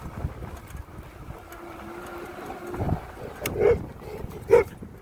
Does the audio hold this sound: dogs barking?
yes